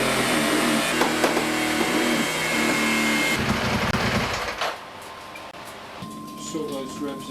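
A supersport motorcycle engine revs hard with a dense, buzzing harmonic drone for a few seconds, then cuts away to quieter sound with a voice talking over it.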